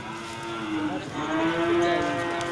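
A Simmental cow gives one long, low, drawn-out moo at a cattle market, close and steady over a faint crowd murmur.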